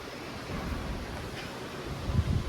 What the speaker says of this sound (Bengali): ঠান্ডা হাওয়া